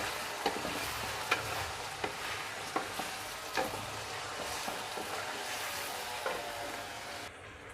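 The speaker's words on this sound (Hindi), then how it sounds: "अब चिकन को हम उस वक्त तक फ्राई करेंगे जब तक इसका कलर सफ़ेद ना हो जाए।" Chicken fries in a pan with garlic and ginger, giving a soft, even sizzle. Repeated stirring scrapes and clicks land about every second, and the sound fades slightly at the end.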